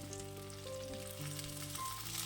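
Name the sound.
raw mango pieces sautéing in oil in a pan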